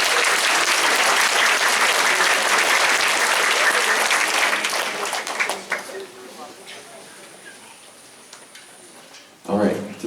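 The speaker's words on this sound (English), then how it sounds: "Round of applause for our jazz band and chamber orchestra." Concert audience applauding a student jazz band and chamber orchestra, loud full clapping for several seconds that fades to scattered claps and quiet room noise, then a voice starts speaking near the end.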